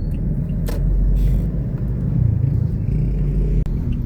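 A Toyota Innova with a 1GD diesel engine, losing power, climbs uphill in third gear; a low, steady engine rumble heard from inside the cabin, fairly even throughout.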